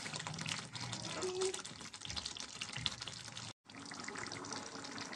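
Water poured into a pot of korameenu (murrel) fish curry with pre-fried fish pieces, a steady broadband splashing and trickling that runs throughout, close and moderately loud, with a brief break near the end.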